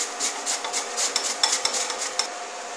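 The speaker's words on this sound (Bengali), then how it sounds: "কুর্নি দিয়ে কুড়ে নিতে হবে।" Five peeled potatoes are grated on a kurni grater, producing a rapid run of rhythmic scraping and rasping strokes with light metallic clicks, close and steady, with no talking.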